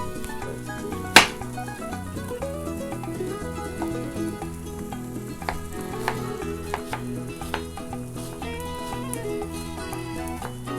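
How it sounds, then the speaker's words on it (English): Red onions sizzle in a pan with corned beef, a steady close frying crackle with scattered pops and a sharp utensil clack near the start, over faint background music. "Just dropped some of my red onions."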